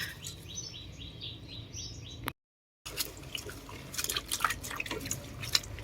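Washed edible insects sit draining in a sieve, water dripping in quick, faint patters with small splashes, close by, a brief gap of silence midway and bird chirps faintly in the background.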